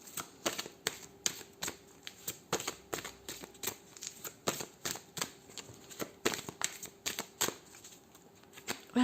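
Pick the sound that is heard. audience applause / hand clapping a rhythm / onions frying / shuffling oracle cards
shuffling oracle cards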